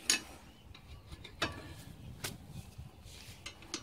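A torque wrench tightens the front brake caliper bolts on a Mazda MPV in a workshop, faint sparse ratcheting clicks and metallic ticks at close range, quiet, with no talk.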